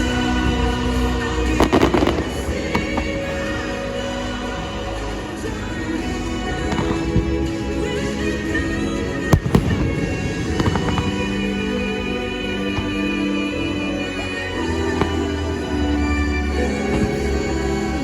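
Epcot fireworks show at Disney, with a dense, continuous barrage of booms and crackling bursts, loud and sustained, with sharper reports standing out now and then amid the rolling din.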